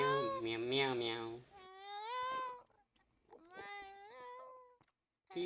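A voice imitating a cat gives drawn-out, wavering meows in two or three tonal bursts with short gaps, close and fairly loud.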